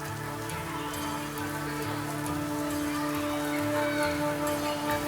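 Rain falls steadily in Kerala, a continuous dense patter under a low, sustained tonal drone throughout.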